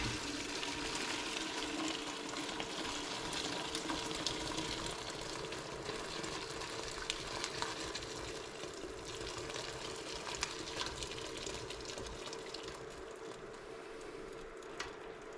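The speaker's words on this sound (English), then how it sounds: "here all I'm doing is dumping it into a sieve" Homemade chicken stock poured from a pot through a sieve into another pot, a steady close splashing and trickling of liquid running unbroken the whole time, with no talking.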